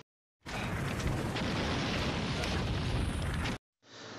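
A large fiery explosion in the 1988 Jackie Chan action film Police Story 2 roars as a loud, sustained broadband blast for about three seconds, then cuts off abruptly before a quieter sound resumes.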